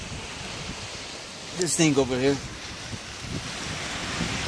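Wind and ocean surf form a steady broadband roar at sea, loud and continuous, with a person briefly speaking over it.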